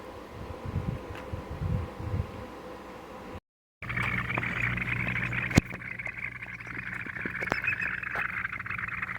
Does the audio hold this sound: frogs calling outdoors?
yes